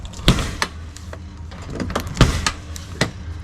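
A vented metal side door on a trailer is worked open and sticks a little, giving several sharp clanks and knocks with scraping rattles between them, close by.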